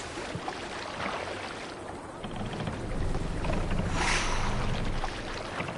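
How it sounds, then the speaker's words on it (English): Ocean waves wash and churn around a longship sailing in Assassin's Creed Valhalla, a steady rushing swell with splashes rising midway, with no talk over it. "waves."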